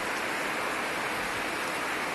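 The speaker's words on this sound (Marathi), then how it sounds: "पाऊस बघा किती लागतोय" Rain falling steadily outdoors, a brief, even wash of dense patter with no breaks and no voices.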